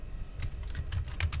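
Light tapping on a computer keyboard as a chart title is typed into an Excel 2016 spreadsheet, a short run of soft, close, irregular keystrokes with no talking.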